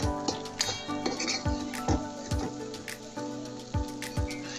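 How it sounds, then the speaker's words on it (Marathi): Chilies, peanuts, green chili, coriander and cumin being sautéed in a pan are heard as sharp metal-on-pan clinks and scrapes at an irregular rhythm, with a faint sizzle underneath and no talking. "त्यामध्ये मिरची, शेंगदाणे, हिरवी मिरची, कोथिंबीर आणि जिरा मिक्स करून घेऊया आपण। थोडंसं परतून घेऊ आपण।"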